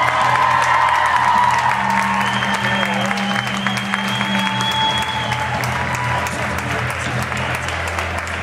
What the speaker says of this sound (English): keep cheering there, Emerald City